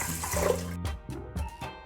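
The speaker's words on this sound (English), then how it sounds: "And to this, we're gonna add 3 cups of water." Water is poured into a pressure cooker holding beans, a sloshing gush followed by several short splashy bursts close by, with no talking.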